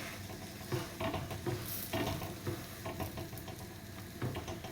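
An aloo paratha, freshly flipped, sizzles softly on a hot pan, with a quiet steady frying hiss and faint rhythmic pressing or tapping sounds, close and low in level, without speech.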